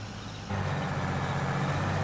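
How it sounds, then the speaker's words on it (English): A John Deere tractor engine in Farming Simulator 22 swells from a low idle into a loud, steady full-load drone that holds continuously while planting soybeans in a field. "John Deere engine under full load."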